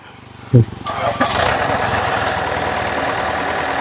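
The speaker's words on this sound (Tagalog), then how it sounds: "Ito yung tinatawag na harvester ngayon." A rice harvester machine's engine starts up and settles into a steady, close mechanical idle with a constant rumble, and a voice is briefly heard near the start.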